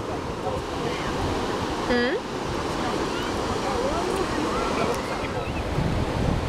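Strong wind rushing over the microphone on a Brazilian beach in winter, surf rolling continuously behind it, loud and unbroken, with a brief distant voice-like call.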